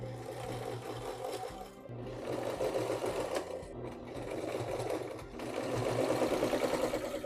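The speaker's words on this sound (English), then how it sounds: "So let's try that again" A sewing machine stitches continuously with a steady whirring hum, briefly pausing twice before running on again, close and moderately loud.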